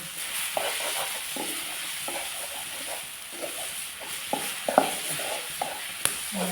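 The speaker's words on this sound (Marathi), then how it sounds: "आमचं मालवणी मसालो जर असो हो गरम मसालो चांगला परतान घेऊया" Malvani garam masala sautés in a pan with a steady hiss and sizzle, while a utensil stirs and scrapes at irregular intervals.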